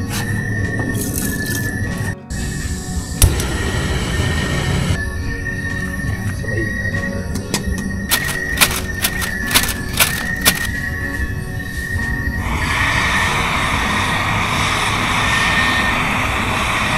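A camping stove burner roars steadily at a cold moto-camping ground, a broad continuous rushing hiss that surges louder partway through and stays strong to the end, with scattered clicks and clatter over it.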